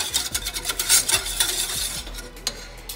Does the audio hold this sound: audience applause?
no